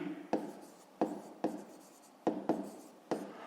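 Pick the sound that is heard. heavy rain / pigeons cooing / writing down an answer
writing down an answer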